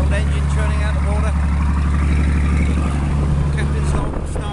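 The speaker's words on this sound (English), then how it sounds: "Old engine churning out the water." Old fishing boat engine running steadily on board, a loud low continuous drone with a churning rumble throughout, while someone talks over it.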